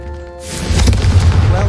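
Confringo spell explosion in Hogwarts Legacy, a sudden loud boom swelling into a rumbling blast that fills the short moment, following a brief low tone.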